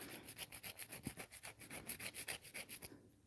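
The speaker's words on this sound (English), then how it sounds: "The good thing about hard gel is that it's a very easy product to file." A file rasps back and forth over a hard gel nail overlay in quick, even strokes, about a dozen rhythmic rubs close up and fairly quiet, then stopping.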